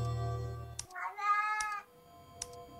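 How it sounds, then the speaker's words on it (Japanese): A single clear cat meow rises and falls over a quiet background with a few faint clicks, fairly close and isolated, in a Japanese escape-room smartphone game. "これ多分猫の声だよな。"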